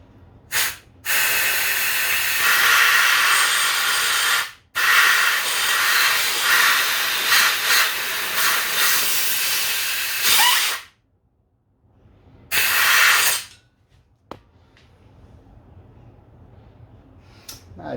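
Compressed air at 50 psi hissing loudly and steadily past an engine valve seal during a rebuild, in long close bursts broken by abrupt stops, then a quieter, sputtering leak near the end.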